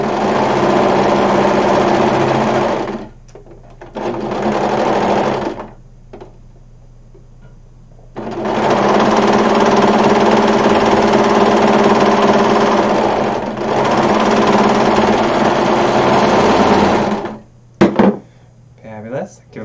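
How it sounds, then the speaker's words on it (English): A serger sewing machine runs hard in several long whirring bursts while stitching a shoulder seam, stopping briefly between runs, with a few clicks and handling noises at the end. "let's stitch that shoulder seam."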